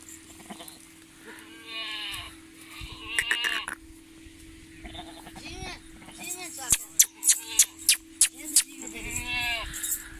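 Gabban goats on a goat farm in Dera Ghazi Khan bleat repeatedly, several wavering calls near and far, with someone talking over them and a burst of sharp clicks partway through.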